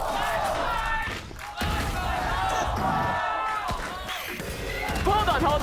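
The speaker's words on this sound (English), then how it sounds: "I think our crowd was just cheering for 4 more rounds." A crowd in a Valorant esports arena cheers and shouts loudly and keeps it up, with a commentator talking over the noise.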